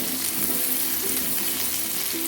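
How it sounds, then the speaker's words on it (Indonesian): Chili and spices stir-frying in a pan for tumis oncom with kecombrang and petai, a steady close sizzle and crackle with faint scraping of stirring, no voices. "Aduk sampai matang cabenya ya, dan merata sama bumbu yang lainnya ibu-ibu."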